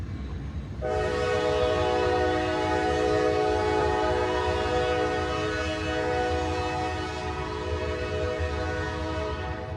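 A freight train hauling cars full of ballast rumbles past while its horn blares a long, sustained, loud chord over the steady rolling noise.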